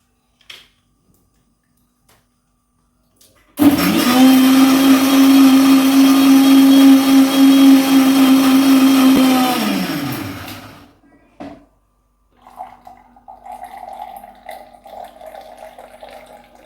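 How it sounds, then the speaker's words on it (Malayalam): A kitchen blender whirs loudly for about seven seconds, crushing ice cubes into juice with a steady high motor whine that winds down at the end, followed by quieter clinking and handling. "അപ്പം ഞാൻ ഇതൊന്ന് വേഗം ജ്യൂസ് അടിച്ചെടുക്കും. ഐസ് കട്ടയും കൂടെ ഇട്ടിട്ട്"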